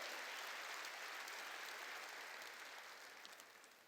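A church congregation claps during a sermon, producing a faint, distant, steady wash of many hands that thins slightly toward the end.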